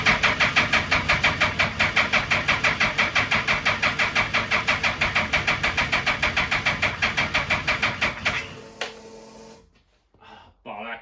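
Suzuki Hayabusa mini engine with low batteries and no fuel pressure cranks over and over in a fast, steady chugging rhythm without catching. The cranking cuts out near the end, followed by a few brief, close knocks.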